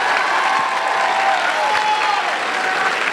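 A game show audience applauds the contestants with steady, full clapping and a light crowd murmur, sustained evenly from start to finish.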